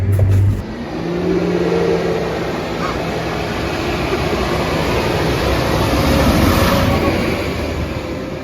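A Fendt 728 tractor accelerating and pulling away, its engine a loud, steady roar that builds slightly over several seconds with no talk.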